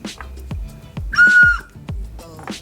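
A jaguar-shaped animal sound whistle gives a short, steady, high tone briefly among scattered knocking and clattering noises nearby, at a market in Cancun, Mexico.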